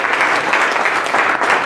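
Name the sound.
audience applause for Greg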